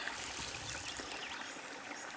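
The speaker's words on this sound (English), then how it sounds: "Little babbling brook." A small babbling brook on a rural homestead flows continuously, a soft, steady hiss of trickling water heard faintly and alone without talk.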